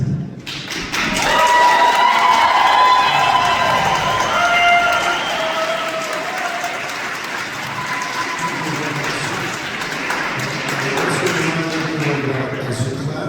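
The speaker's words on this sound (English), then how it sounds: "As you clap, the time keeps going" Audience in Providence City Hall clapping and cheering after rent stabilization testimony, a loud sustained wash of applause with voices mixed in, slowly tapering off.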